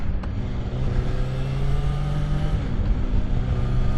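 Kawasaki ZX-6R sport bike with an inline-four engine, running smoothly with a steady, continuous low hum and rising revs, close and moderately loud with no voices.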